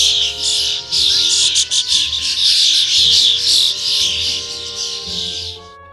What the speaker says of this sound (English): the call you will likely hear the most is the call when made in a flock.